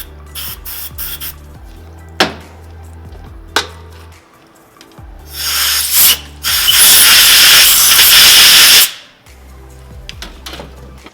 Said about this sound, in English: I'm just cleaning up the surfaces, making sure we get all the dirt out of the inside bore here